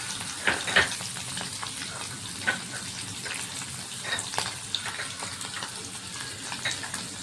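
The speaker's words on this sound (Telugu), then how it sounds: "లైట్ బ్రౌన్ అయ్యేంత వరకు ఫ్రై చేసుకోవాల్సి ఉంటుంది" Cubes of paneer sizzle and crackle in hot oil with garlic in a pan, a steady frying hiss broken by sharp pops and spatters, close and moderately loud, with no voices.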